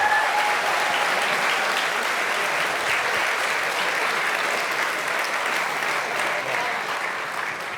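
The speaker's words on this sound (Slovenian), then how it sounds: "dajte jim zaploskati" An audience at the POPRI 2024 closing awards ceremony applauds steadily, a dense wash of clapping that holds for several seconds and eases slightly toward the end.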